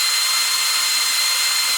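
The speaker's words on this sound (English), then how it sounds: "Going to line them up, drill through so it drills through to the right place." A power drill bores through a metal number plate on a Citroen Saxo, producing a loud, continuous high-pitched whine that holds steady for the whole stretch.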